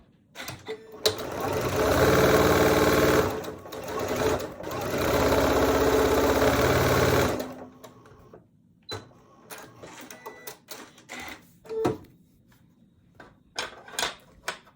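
A sewing machine stitches quilt fabric pieces together in two long loud runs of steady whirring. Clicks and handling noises follow near the end.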